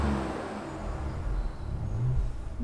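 Ford Ranger Raptor 2024 pickup exhaust in normal mode, a deep steady rumble with a low engine drone and a slight rise in revs, fairly close and without talk.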